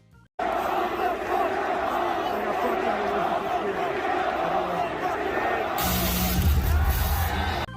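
A packed wrestling arena crowd roars and cheers for CM Punk's entrance at AEW All Out, a loud sustained din of shouting and whooping, then his entrance music booms in near the end, with a voice talking over it.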